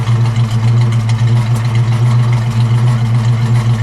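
A 1965 Ford Mustang 2+2 Fastback with a 289 V8 idling steadily, a loud, even low rumble with a constant hum and no pauses.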